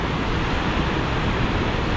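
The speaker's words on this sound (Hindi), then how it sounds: "कितना वो देखें कैसा उछल रहा है पानी" Fast river water splashing along a rocky mountain stream, a dense steady rushing roar heard close up and without pause.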